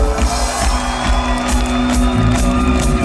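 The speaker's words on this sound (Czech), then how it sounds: "Můžete si zatleskat ještě jednou!" Concert audience at a revival show in Lanškroun applauding and cheering, a dense crowd roar with whoops and shouts carrying over a steady hum from the stage.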